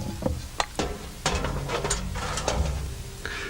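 Ice cubes land on a hot plate in a heat experiment, giving a few sharp knocks followed by a steady, close sizzling hiss and crackle.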